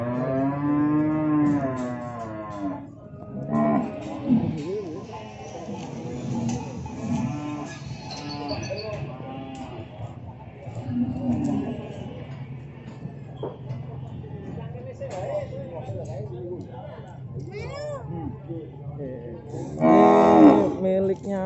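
Cattle at a livestock market, including a pregnant cow and her calf, moo repeatedly in long harmonic calls over a busy crowd, with voices talking in the background.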